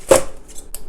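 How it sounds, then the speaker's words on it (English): A knife chops through cabbage on a cutting board, one sharp, close crunch followed by two lighter cuts in quick succession, with no voices. "So now just roughly chop cabbage,"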